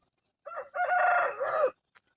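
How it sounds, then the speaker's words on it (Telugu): A young nine-month-old Kaki-type rooster weighing about 3 kg gives one close, clear crow, slightly broken at the start, then stops in quiet surroundings. "కోడి పుంజు అనేది ఇప్పుడిప్పుడే కోత పడుతుంది"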